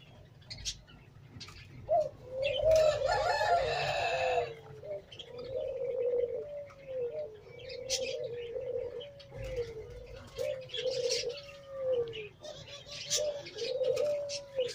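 Teddy pigeons, a high-flying breed kept in Pakistan, give a steady series of soft, rolling coos repeating roughly every second, close by, with a brief burst of brighter chirping early on and faint background noise.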